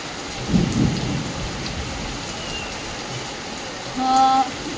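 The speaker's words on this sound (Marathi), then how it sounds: "पाऊस पडतोय" Heavy rain pours steadily on surfaces while two deep rolls of thunder rumble, one early and one near the end.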